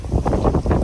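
Wind blows hard by the sea, a loud, close rumbling gust buffeting against the microphone for under a second.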